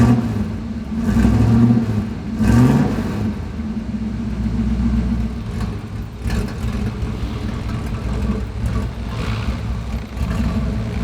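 A 1965 Chevrolet Impala drives after sitting unused for more than ten years, with two short revs of its engine early on, then a steady, moderately loud engine drone as the car moves along.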